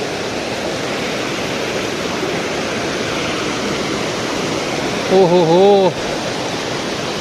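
A dangerous, fast river rushes along a rugged mountain path toward a temple, a loud, constant broadband roar close by, with a voice speaking briefly over it near the end.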